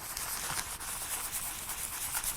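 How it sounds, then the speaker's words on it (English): A foam aluminium oxide sanding pad rubs back and forth across the back of a mirror, a steady close-up scratchy hiss with faint rhythmic strokes and no talking. "this is one of these like foam sanding pads, and I believe it's like an aluminium oxide"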